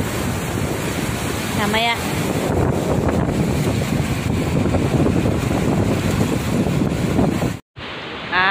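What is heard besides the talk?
sea waves and wind at the seashore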